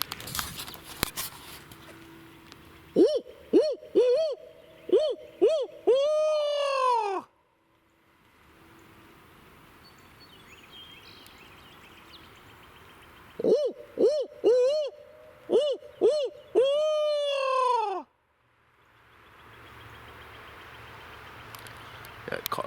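A hand-blown owl hoot locator call for scouting turkeys sounds outdoors in two loud bursts, each a rhythmic run of hoots rising into a drawn-out, quavering whinny, separated by quiet background with distant ambient noise.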